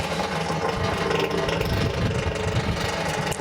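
Vintage refrigerator compressor running after rewiring, a steady rough mechanical hum with low rattling pulses, close and moderately loud without pause; no talking.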